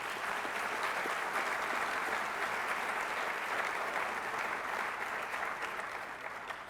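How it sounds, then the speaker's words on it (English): Even, sustained applause from an awards-show audience honoring finalists, many hands clapping at a steady moderate level from a slight distance and tapering gently near the close. "Let's give them a round of applause."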